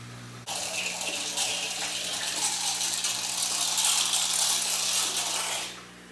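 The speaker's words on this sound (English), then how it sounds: "It's pumping water out to my floor drain" Mag drive pump draining fish tank water to a floor drain, a steady rushing hiss of flowing water that starts abruptly and runs evenly for several seconds before cutting off.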